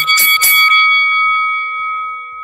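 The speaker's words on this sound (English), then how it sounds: "It's just a boxing bell." A single loud boxing bell strike rings out and then decays in a long, sustained metallic tone.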